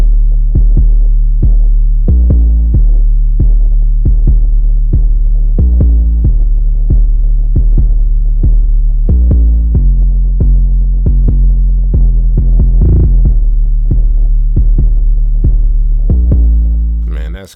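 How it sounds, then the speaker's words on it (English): A deep, booming 808 bass line pulses under a steady hard trap beat made in FL Studio, with crisp percussive hits tapping out a bouncy rhythm throughout, loud and up close. "my favorite part, man, the 808"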